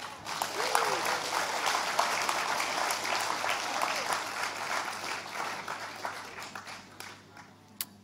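Sustained applause from an audience at the Matariki Living Taonga Awards for an award recipient, a dense, even wash of many hands clapping at moderate level with faint voices underneath, easing slightly near the end.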